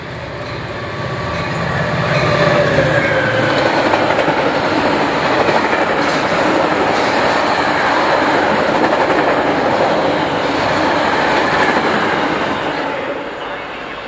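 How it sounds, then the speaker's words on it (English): A Metra commuter train pulls into a Chicago-area station, its loud rumble and clattering wheels swelling, holding steady for several seconds, then easing off as a station announcement plays over it. "The next outbound Metra train from Chicago is now arriving in your station."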